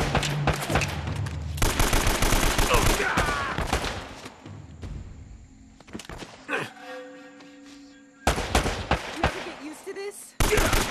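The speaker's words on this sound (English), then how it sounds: "Shooting people in the back for no reason?" Rapid bursts of automatic gunfire and heavy firefights from the Uncharted video game, loud and sustained with brief lulls, mixed with game sound effects and occasional voices.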